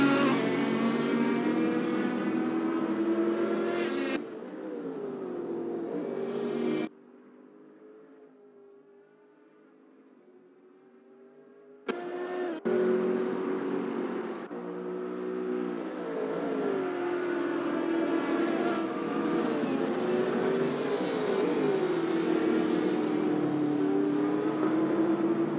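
Sim racing cars, including a Porsche, Mercedes and McLaren, roar around Mugello in an endurance race, engines revving and shifting loudly, with a muffled quieter stretch in the middle before the full engine howl returns.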